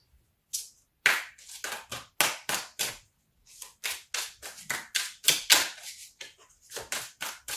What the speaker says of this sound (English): I do shuffle like a maniac